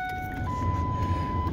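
A Ford 7.3 diesel truck engine runs with a steady low, throaty rumble close by, while a thin electronic tone sounds over it.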